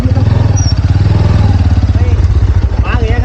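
A motorcycle engine idles close by with a steady low throbbing pulse while it is parked at Vasundhara waterfall, with people talking over it throughout.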